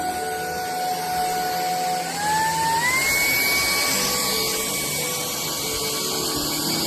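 A JELLYPIG cordless stick vacuum, a 650W 55KPA model, runs steadily on an area rug with a sustained motor whine that steps up in pitch partway through. The sound is close and fairly loud, and no one speaks.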